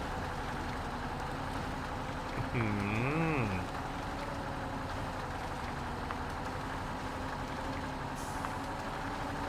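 A truck grinds through deep mud in the off-road driving game MudRunner, its engine droning steadily with a brief rising and falling whine as the wheels spin and sink.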